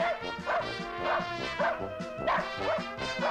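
Small dog yips and barks repeatedly in a quick, steady rhythm, close by, with whiny high-pitched tones.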